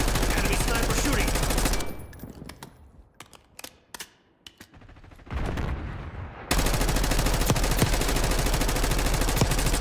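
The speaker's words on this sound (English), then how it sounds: "Enemy sniper shooting." Gunfire in a Black Ops 6 match, with rapid cracking shots in dense bursts at the start and again at the end, separated by a quieter stretch of scattered sharp reports.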